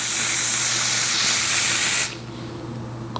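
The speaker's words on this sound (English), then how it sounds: "the great thing about this adhesive spray is even if I get it in my hairline, it comes out with water" Adhesive spray hisses in one steady, loud, continuous blast onto wig lace during a curly wig install, then cuts off abruptly, leaving quiet room tone.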